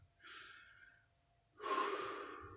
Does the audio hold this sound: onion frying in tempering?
no